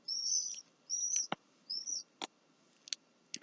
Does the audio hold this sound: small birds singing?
yes